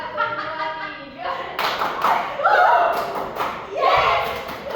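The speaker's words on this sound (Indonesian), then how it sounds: "Tepuk satu dua tiga." Classroom students clapping in a one-two-three pattern during a teaching session, with bursts of claps and thuds in groups, close and fairly loud, mixed with a teacher's voice.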